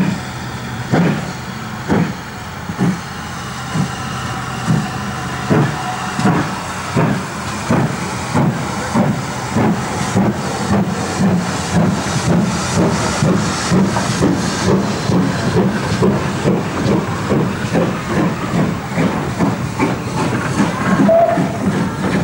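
A preserved Great Western Railway steam locomotive in G.W.R. livery, based at Didcot, works hard at Peterborough, its exhaust chuffs loud and regular, quickening steadily over a continuous hiss of steam.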